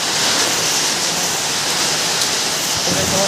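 Heavy rain pours down in a dense, continuous hiss, loud and close, with no break for the whole stretch.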